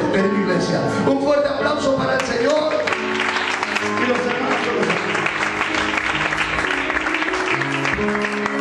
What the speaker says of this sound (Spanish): Un fuerte aplauso para el Señor y los hermanos.